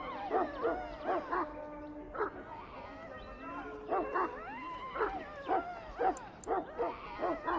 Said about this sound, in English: I fear your hound has the kitchens in uproar once again